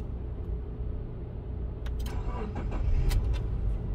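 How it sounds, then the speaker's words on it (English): A Subaru with an intake valve control solenoid circuit fault (code P0026) starts up: a steady low engine rumble is overlaid by a few sharp mechanical clicks and bursts, heard close with no talking. "I'm gonna start the car"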